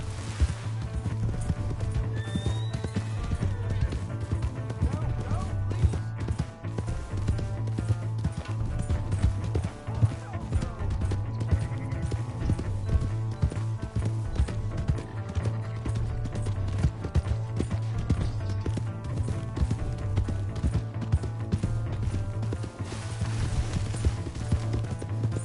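Rapid, steady hoofbeats pound throughout as a horse gallops in Red Dead Redemption II, with a whinny early on and a continuous rumbling underneath.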